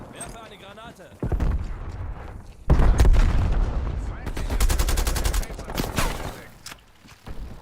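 Grenade blast and gunfire in a Call of Duty Cold War Warzone match, a heavy boom followed by bursts of rapid shots and booms, loud and close.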